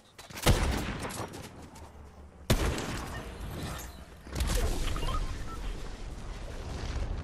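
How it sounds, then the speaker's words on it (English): Video game gunfire in Fortnite: a few loud, sharp shots and booming blasts spaced a couple of seconds apart, followed by a sustained rumble of distant shooting. No speech. "more shooting southwest"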